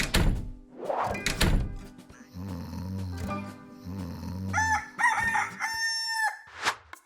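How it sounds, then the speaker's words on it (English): Roosters crow repeatedly nearby in a city, several long, warbling calls following one another after a few heavy thumps at the start. "Why do I hear roosters crowing in the city?"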